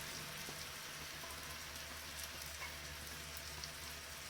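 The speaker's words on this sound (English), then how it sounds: "we just let that saute for a little bit so that it all reduces and gets really nice and caramelized" Mushrooms and zucchini saute in a pan, giving a quiet, steady sizzle with faint crackles and small ticks throughout, no voices.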